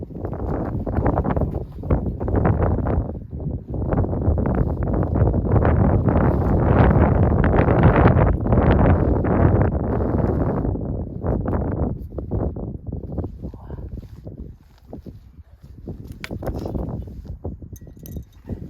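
Gusty wind buffets a hot tent outdoors, with loud rushing blasts and flapping fabric that rise and fall throughout, strongest in the middle, with no talking.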